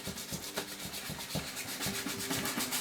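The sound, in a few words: sanding Mustang woodgrain insert with fine-grit sandpaper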